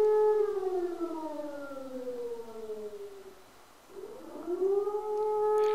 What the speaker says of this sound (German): ich höre schon wieder die Sirene